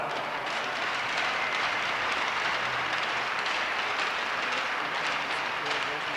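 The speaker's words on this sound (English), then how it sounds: "Please give a round of applause for all those folks for their help." Crowd applause at a hockey senior night in an arena, a continuous broad roar of clapping that stays even and distant-sounding, blended with reverberant hall noise.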